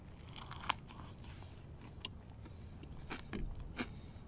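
Someone bites into a fried crappie fish patty, with a few crisp crunches and soft chewing spread over several seconds, close and fairly quiet against a low background hum.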